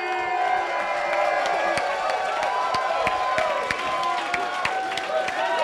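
A crowd at a live Dragon Con 2018 show cheers and whoops loudly, with scattered claps cutting through a continuous roar of voices.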